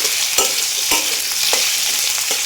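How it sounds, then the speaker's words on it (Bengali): Potatoes frying in a pan for a cucumber curry, a loud continuous close sizzle broken by several sharp scraping strokes of a spatula stirring at a regular pace, without any voices. "আলুটা ছেড়ে আমি এখানে একটু ভাজা করে নেব আলুটাকে।"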